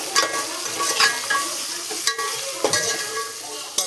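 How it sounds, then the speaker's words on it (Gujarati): Potatoes tempered in hot oil for a curry, a continuous close sizzle with periodic clatter of stirring. "જો આપણે બટેકાનું શાક વઘાર નાખીએ"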